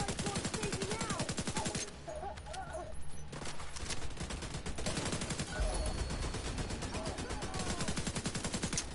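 Turrets firing rounds in The Division 2, a loud, rapid, sustained machine-gun rattle running almost continuously with brief shifts in intensity and a voice faintly underneath.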